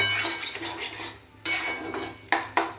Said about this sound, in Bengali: এবার আমি সেদ্ধ করা পেঁপের আলুটা দিয়ে দিলাম। এই দেখুন, ভালো করে এবার নাড়তে থাকবো।